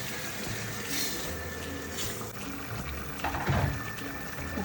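Water is poured into a pan for a Ranni-style salmon fish curry, a soft, close trickling and splashing that runs on for several seconds at low volume with no voices.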